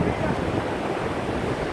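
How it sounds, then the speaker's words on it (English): Seawater surges up a Barbados beach toward the car park during Hurricane Maria, a dense, continuous rushing wash of surf mixed with wind noise, loud and steady throughout. "And this is all the water from the sea coming all the way up"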